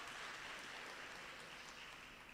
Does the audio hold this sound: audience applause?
yes